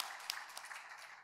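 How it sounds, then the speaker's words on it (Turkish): Brief, faint applause from a seminar audience at a radio technology congress, thanking speaker Mustafa Talat Erdem; a soft patter of scattered claps with a few sharper hits. "Sizin adınızda Mustafa'ya bir alkış da ben istiyorum."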